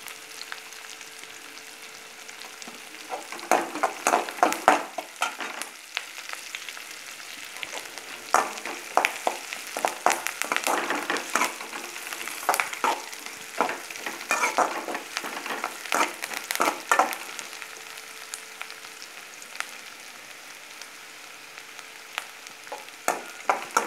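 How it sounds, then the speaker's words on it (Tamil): Onions and curry leaves sizzle and crackle steadily in hot oil while a utensil stirs and scrapes the pan in irregular bursts, close up. "கருவேப்பிலை அதை போட்டு நம்ம ஒரு பொன்னிறுவில் வர அளவுக்கு நம்ம வதக்கிங்க"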